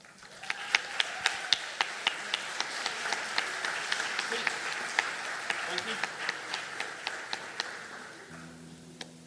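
A concert audience claps for a tribute, the applause fairly distant and even, with sharp individual claps standing out, before it fades into a soft musical note.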